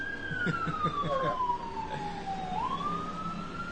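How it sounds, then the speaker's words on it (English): A wailing siren sweeps down and rises again, loud and steady over background traffic noise, with faint voices mixed in. "can you hear the sirens?"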